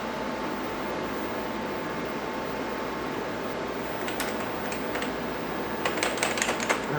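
Keys clatter on a computer keyboard, a scattered run of light clicks over a steady fan-like hum, growing busier toward the end.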